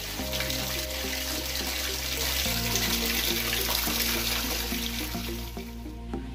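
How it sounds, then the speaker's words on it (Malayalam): Water from an overflowing tank pours steadily into a basin, a loud, constant splashing rush with a shifting hollow tone as the basin fills, no voices. "ഇവിടെ ഇങ്ങനെ ടാങ്ക് നിറഞ്ഞ് വെള്ളം കളയുമ്പോൾ ബേസിനിൽ വെള്ളം പിടിച്ചു വെക്കും."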